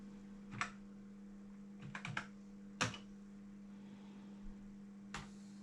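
Soft, sparse taps on the rubber membrane keyboard of a Sinclair Spectrum 128, a few keypresses with pauses between them over a steady low electrical hum.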